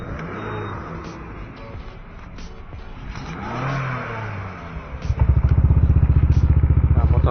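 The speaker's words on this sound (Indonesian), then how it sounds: "sekarang gue mau nyalain dulu motornya" A motorcycle fitted with an aftermarket exhaust starts up near the end, a loud steady pulsing idle following road and traffic noise with talk.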